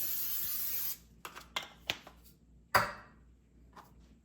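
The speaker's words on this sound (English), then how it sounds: "I'm just going to spray my pan a little bit." A steady hiss of cooking spray onto a baking pan lasts about a second, then stops, followed by scattered light taps and clatters of handling the pan.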